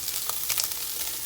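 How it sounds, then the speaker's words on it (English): Bacon, spam, cabbage and onion frying together in a pan, a soft, brief crackling sizzle with a few faint pops, quiet and close. "So I'm going to just let this keep on fry-tating."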